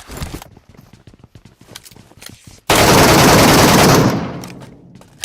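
Automatic gunfire in the video game PUBG Metro Royale: quick single shots and short taps, then a loud sustained burst of rapid fire lasting over a second that fades out, then a final shot.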